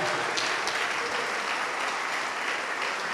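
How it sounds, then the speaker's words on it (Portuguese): A church congregation at a Portuguese-language service applauds in praise, a continuous, dense and loud roar of many hands clapping without pause. "vamos aplaudir mais ao Senhor Jesus."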